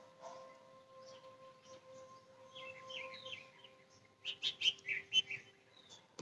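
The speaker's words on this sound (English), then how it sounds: "The sound of the chirping birds." Birds chirp and tweet in scattered bursts in the morning, growing livelier toward the end, over a faint steady hum in a quiet setting.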